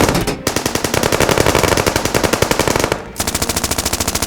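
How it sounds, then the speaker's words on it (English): Automatic machine gun fire from a dramatized comic battle scene: loud, rapid, sustained bursts of closely spaced shots, with one brief pause before the firing resumes. "Automatic fire from above."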